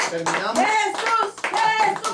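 A church congregation claps rhythmically in praise, sharp hand claps mixed with loud shouted voices and cheering throughout.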